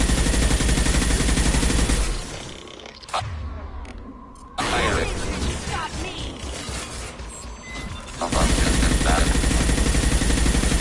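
Sustained loud gunfire in a video game, dense rattling bursts that drop away midway under mechanical noise and quieter action, then return at full intensity near the end.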